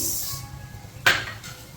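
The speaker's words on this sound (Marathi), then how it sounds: "त्यात घालूया धने." Coriander seeds tipped into a pan for dry roasting: one sharp, bright clatter of seeds striking the hot metal, then a brief fainter rattle, over a low steady background hum with no talk.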